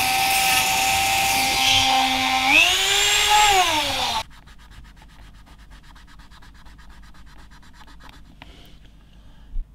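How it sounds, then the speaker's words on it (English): A Dremel rotary tool fitted with a sanding drum runs around the outer edge of a dual band omnidirectional WiFi antenna piece, a loud steady whine that dips and rises in pitch, then stops abruptly partway through, leaving quiet room tone. "just the Dremel with a sanding drum on there, and just run it around the outer edge"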